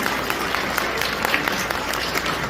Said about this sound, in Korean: 여러분 다시 한번 따뜻한 박수 부탁드리겠습니다